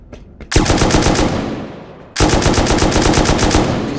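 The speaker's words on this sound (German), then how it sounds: "Los, die schießen auf mich!" Loud, close automatic gunfire in the survival game Rust: a short burst, a brief pause, then a longer, rapid string of evenly spaced shots rattling off alone.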